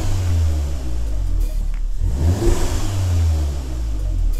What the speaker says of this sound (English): you can hear a lot more induction noise